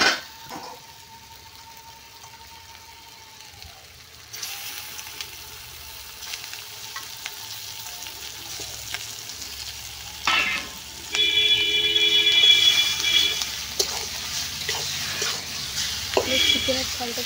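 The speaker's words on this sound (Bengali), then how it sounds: "চিকেনের ঝালটাকে ভালো করে কষিয়ে নেব।" Chicken masala sizzles in a pan as it is stirred and cooked down, a steady frying crackle with intermittent scraping that grows louder and busier in the second half, over a low background hum.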